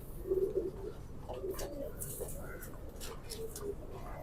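Pigeon cooing softly in a loft, a few low murmuring coos spread across the moment with faint rustling and background voices nearby.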